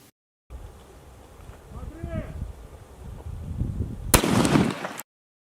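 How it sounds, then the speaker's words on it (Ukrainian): A small police disruption charge detonates to destroy the firing mechanism of an explosive device: one sharp, loud blast near the end, after a stretch of quiet background with a brief voice. "розміщує поряд з ним так званий ЗМП заряд малої потужності, призначений для знешкодження вибухового пристрою шляхом руйнування засобів підриву"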